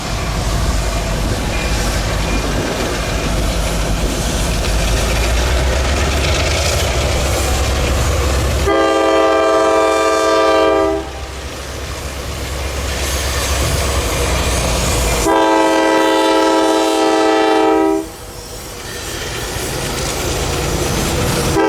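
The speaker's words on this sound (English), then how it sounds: "The town is as far as 120 will go, as the crew eases by Mill Road, preparing to work the 4-track yard." Shortline freight train CLNA 1501 rumbles past on coastal Carolina track near a small yard. It sounds two long, loud horn blasts over a steady rolling rumble of wheels.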